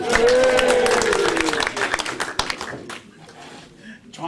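Audience applause for a male performer at a music hall show, loud dense clapping at first that thins out and fades over a few seconds, with some voices mixed in.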